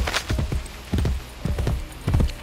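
A horse in the video game Assassin's Creed Brotherhood walks with steady clip-clop hoof beats in paced pairs, fairly quiet and close, with no talk over it.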